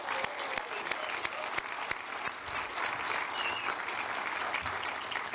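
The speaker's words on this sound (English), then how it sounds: "let's go ahead and give all of our award winners a big round of applause again." An audience at a city State of the City event applauds award winners, a dense, steady patter of many hands clapping from a moderately distant crowd, continuing for several seconds without pause.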